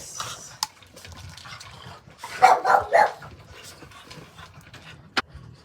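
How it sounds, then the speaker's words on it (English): Dogs let out a quick cluster of three or four sharp barks near the middle, fairly close, with a quiet room and a few small knocks around them. "the doggies were barking"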